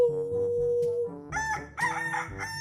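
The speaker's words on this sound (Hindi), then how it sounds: "चीनू जोर से बांग लगाता रहा" A rooster in a children's story crows a long, loud cock-a-doodle-doo close by, followed by a second rising, strained crow, with no talk over it.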